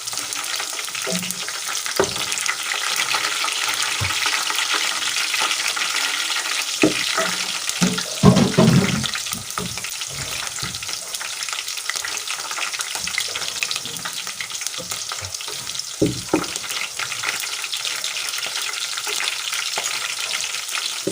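Onions browning in hot oil with chopped green chillies for a chickpea curry, a steady loud sizzle throughout with occasional scraping stirs and a brief burst of stirring near the middle.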